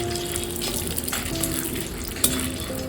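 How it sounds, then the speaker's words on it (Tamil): Peanuts fry lightly in oil for tamarind rice, giving a steady close sizzle with soft stirring scrapes and one sharper clink from the pan. "இந்த கடலையும் போட்டுங்க லைட்டாக எண்ணெயில் இப்படி வதக்கி விட்டுக்குங்க"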